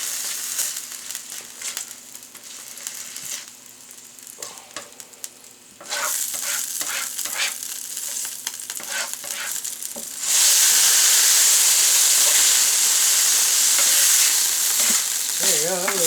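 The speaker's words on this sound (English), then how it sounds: "I will probably get the potato out so I can get that cooked up a little bit." Potato and bacon frying in a hot pan, with stirring and scraping over a crackling sizzle that grows much louder and brighter partway through, continuous and close.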